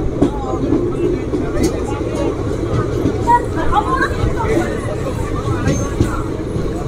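A passenger train running from Kolkata to Digha rolls into Tamluk railway station, a steady low rumble of wheels and carriage noise under a murmur of voices aboard.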